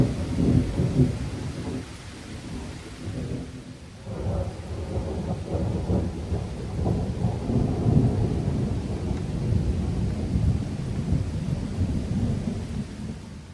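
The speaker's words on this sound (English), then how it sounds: "The bulk of the storms have passed. It's raining a little bit here and there" Thunderstorm with rain passing over a garden flowerbed, a steady low rumble of distant thunder rolling continuously beneath a constant wash of rainfall, fairly loud and alone without voices.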